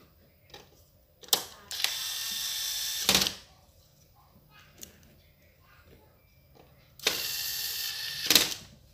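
A bolt is driven into a Samsung LED TV with a ratcheting tool, producing bursts of rapid mechanical clicking close up, a longer run early and another near the end, separated by quiet handling.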